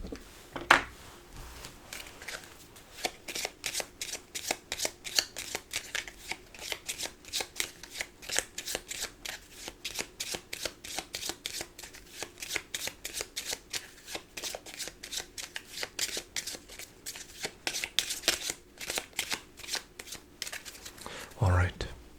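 A deck of playing cards is shuffled and cut over and over at a casino-style table, giving a long run of crisp, close riffling bursts with soft handling sounds between them and quiet speech at times.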